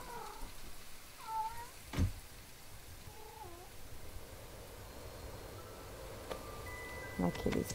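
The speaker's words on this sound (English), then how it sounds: "My kitty's going crazy." A pet cat meows several times in the life-sim game My Time At Portia, short rising calls, fairly faint against a steady background hum, with a few clicks near the end.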